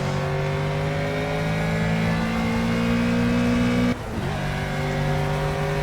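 A race car in the Project Cars racing simulator played in virtual reality with an HTC Vive, its engine holding a loud, steady high whine, then dipping sharply at a gear change before climbing again, with no talk.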